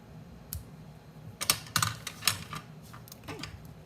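Cardstock for greeting cards is trimmed with several sharp clicking snips, a few spaced cuts then a quick cluster, close up over a quiet room.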